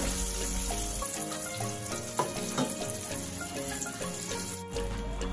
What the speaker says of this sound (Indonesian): mulai masukkan di minyak yang sudah panas seperti ini